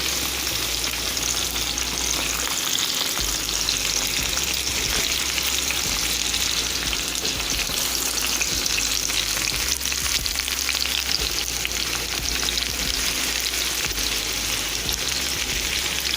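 Herb potatoes fry in a skillet with a dense, constant sizzle and crackle, steady and loud throughout as they are turned and flipped, with faint scraping of the pieces being moved.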